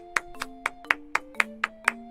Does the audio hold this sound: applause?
yes